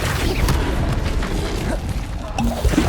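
The Confringo spell in Hogwarts Legacy bursts as a loud, booming blast amid continuous dense game noise, with a few smaller impacts and pops following.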